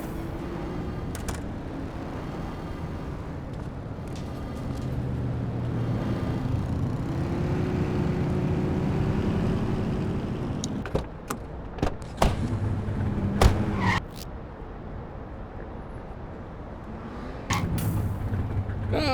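A car being driven in the video game The Precinct gives a steady, low engine drone, with a few sharp clicks and thumps near the end.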